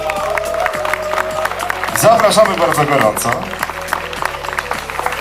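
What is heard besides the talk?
crowd applause at company picnic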